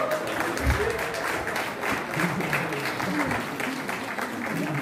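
Audience applause at a Nepali movie premiere in Darjeeling, a steady dense wash of clapping from a crowd with a person talking over it throughout.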